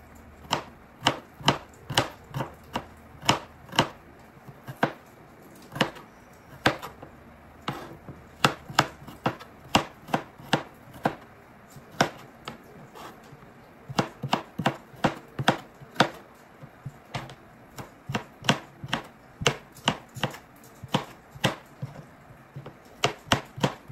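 Knife chopping onions into small pieces on a cutting board for lumpia, a steady run of sharp close knife strikes in quick rhythmic bursts with brief pauses, alone without talk.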